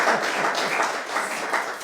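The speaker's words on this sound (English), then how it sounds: "that deserves a round of applause." An audience at a town commentary meeting applauds, a dense, steady wash of many hands clapping at close range that carries through the whole moment without letting up.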